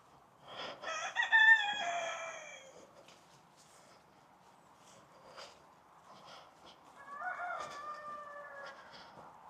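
A rooster crows loudly at a moderate distance, then after a pause another crow sounds, with faint clucking and background bird calls.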